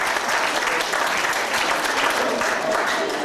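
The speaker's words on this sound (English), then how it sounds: "Nice round of applause for Carol." Enthusiastic audience applause fills a hall at the Miss Premium Bonds 1992 pageant in Blackpool, a dense, steady clatter of many hands clapping continuously and close.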